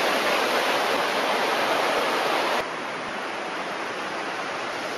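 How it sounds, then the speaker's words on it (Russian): The Jordan River rushes past in the Golan Heights as a loud, continuous broadband roar of flowing water. The level drops slightly partway through and then holds steady with no voices. "Река Ярден"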